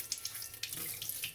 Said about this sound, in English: So you have to just clean it under